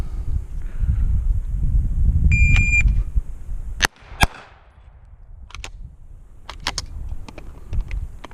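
Handgun shots at an outdoor IPSC practical shooting range: a few sharp, loud cracks and several quicker distant pops over steady wind rumble and a brief electronic beep, with no talking.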